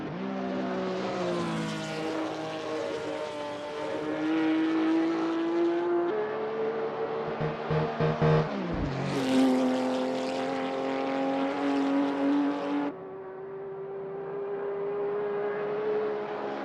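A Shelby Cobra 289 GTC60 race car on its outlap at Goodwood in a sim racing game, its engine rising and falling through gear changes with a sharp upshift stutter midway, loud and close throughout.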